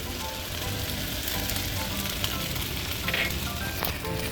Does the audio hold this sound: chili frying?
yes